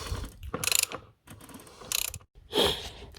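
A ratchet with a 27 mm socket working on a BMW 318/320 oil filter housing, giving three quick bursts of clicking pawl ratcheting separated by short pauses, close and clear.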